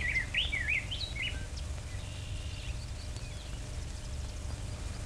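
An early, historic recording of a songbird singing in North America: a few bright, high warbling phrases in the first second and a half, then fainter chirps over a steady low rumble and hiss.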